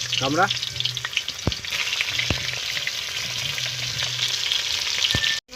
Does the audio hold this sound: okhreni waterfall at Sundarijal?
no